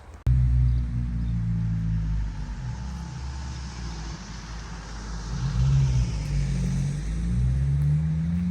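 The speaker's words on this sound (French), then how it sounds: "on entend le bruit des voitures" Car traffic on a road heard from nearby after leaving a forest, a steady low engine rumble with vehicles swelling and fading as they pass, no talking.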